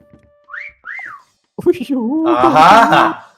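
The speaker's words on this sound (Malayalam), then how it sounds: "വലിയ വിസിലാണല്ലോ ആ സൈഡിൽ കേൾക്കുന്നത്" Two swooping, rising-and-falling whistle tones in a hide-and-seek video game, then a voice starts talking over game sounds.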